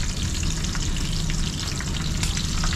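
Fish fries in hot oil in a pan, a loud continuous crackling sizzle with scattered pops, close and steady throughout with no talking.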